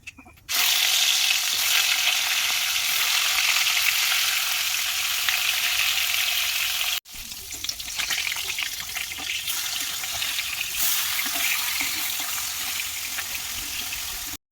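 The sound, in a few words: fish frying in oil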